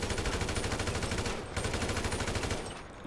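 Rapid automatic gunfire in the GTA video game, a fast even string of shots sprayed into a corner, pausing briefly once before resuming and then tapering off, no talking.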